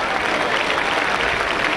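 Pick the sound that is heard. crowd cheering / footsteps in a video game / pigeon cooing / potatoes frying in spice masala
crowd cheering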